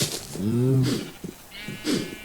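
A Minecraft sheep bleats loudly and wavers, followed by shorter bleats and a faint electronic tone, with no talking.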